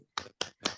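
Three sharp, separate group claps of the 'tepuk semangat' spirit clap from a class with their teacher, evenly spaced and fairly close, with nothing else around them.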